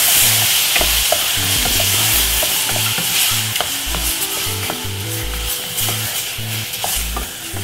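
Chopped tomato stirred into a frying brown stew chicken sauce, with a steady sizzle under rhythmic scraping and stirring strokes of a spoon against the pot, close and continuous.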